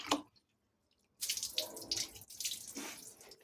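Leftover water from a dog's bath runs and splashes in a sink or tub: a brief splash, a near-silent pause, then steady trickling and spattering, quiet and close.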